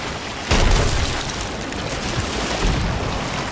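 Cannon fire in a rowboat naval video game: one sharp, loud boom bursts out near the start, then a steady rumbling wash of game noise continues with a faint second swell later.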